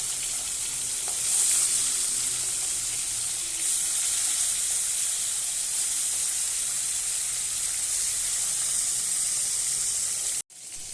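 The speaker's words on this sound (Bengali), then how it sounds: "এবার আমি মাছটা ভেজে নেব" Fish fries in hot oil in a wok, a steady loud sizzle and hiss that holds without a break until it cuts off abruptly just before the end.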